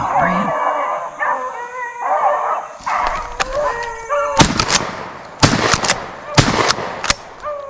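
Beagles bay and howl in excited bursts during a public-land hunt, then several loud, sharp gunshots crack out one after another, close by and spaced a second or so apart, with the hounds still sounding between them.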